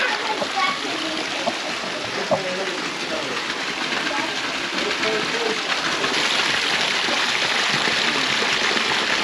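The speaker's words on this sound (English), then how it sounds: "I think this is another amazing waterfall." Small waterfall in the Willis Creek slot canyon, a steady rush of falling water holding constant and fairly close for the whole stretch, with no voices over it.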